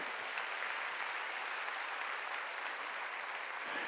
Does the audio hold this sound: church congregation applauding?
yes